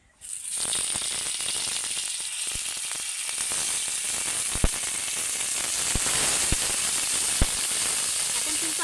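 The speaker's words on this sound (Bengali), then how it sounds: "এবার আমি উনানটা জেলে নেব চিকেন টিক্কাগুলোকে ভেজে নেওয়ার জন্য" Chicken tikka pieces frying in a little white oil on a hot tawa over medium heat, a loud steady sizzle and hiss that starts abruptly and continues close by, with occasional sharp pops and crackles.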